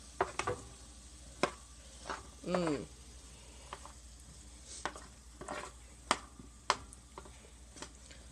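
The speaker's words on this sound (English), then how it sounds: "Give them a quick stir." Brussels sprouts roasting in a pan are stirred in a few scraping, clattering bursts, with soft sizzling underneath and brief voice sounds between the moves.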